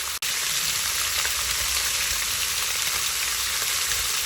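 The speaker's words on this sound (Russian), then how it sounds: "Таким вот образом мясо обжариваем 5 минут с одной стороны, после чего перемешиваем." Shashlik meat frying in a kazan, a loud, dense, unbroken hiss of sizzling fat that carries on evenly, broken only by one brief dropout near the start.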